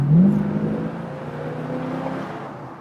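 A 1937 Ford street rod is accelerating northbound on a freeway. Its engine note rises and then holds a steady drone, heard loud and close from inside the car with no talking.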